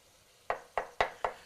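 Minced carrots being stirred into ground meat frying in a pan for a double chili cheeseburger: four sharp, close scraping knocks of a utensil against the pan, evenly spaced about a quarter second apart, over a faint background.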